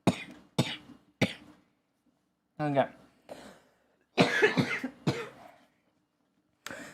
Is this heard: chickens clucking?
no